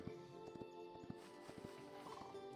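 Horse hooves clip-clop in the Hytale video game, a quiet, quick run of soft thuds, some paired, beating irregularly over a faint ambient game backdrop.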